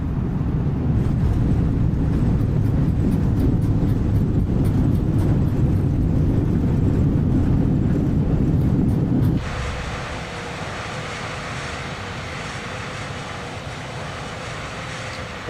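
An airliner roaring on the runway after landing in Microsoft Flight Simulator 2020, a steady loud engine rumble with wind noise that suddenly drops to a quieter hiss partway through.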